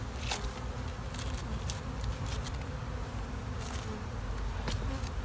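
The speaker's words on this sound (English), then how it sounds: "I can tell it's fully occupied with bees already" Honey bees hum in a steady dense drone inside an open hive body full of bees and brood, with occasional sharper clicks and knocks of frame handling nearby.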